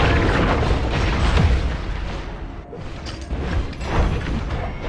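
A turret is destroyed in a mobile MOBA game, heard as dense, booming blasts and bursts in a crowded mix of battle effects, with no speech.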